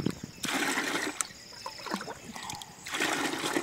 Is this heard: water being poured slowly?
yes